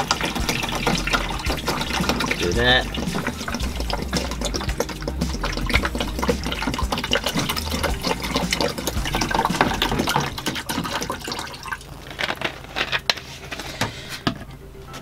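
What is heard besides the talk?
pouring a litre of water into an Arlec cooler's tank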